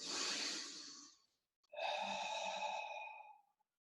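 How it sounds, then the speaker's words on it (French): During a yoga fitness session, one close, quiet breath cycle: a long, airy exhale through the mouth fades out, then after a short pause comes a slightly whistling inhale through the nose. "Une belle expire par la bouche, une inspire par le nez."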